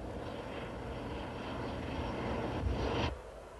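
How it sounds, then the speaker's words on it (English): A disguised El Al Boeing 747 airliner descends to land during an emergency airlift, its broad engine roar steady and fairly loud, swelling briefly near the end before dropping away. "an ElAl 747, its markings covered to disguise its identity, floated down from the skies"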